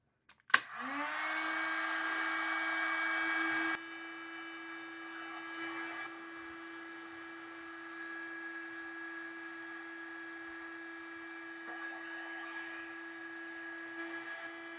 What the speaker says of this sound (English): Use a little heat with the heat gun and melt that basically glue in there